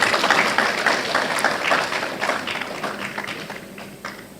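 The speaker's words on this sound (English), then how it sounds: "Please, a round of applause for him again." Audience applause at a national dialogue event on fighting corruption, a broad crackle of many hands clapping steadily and fairly close, tapering slightly toward the end with no voices over it.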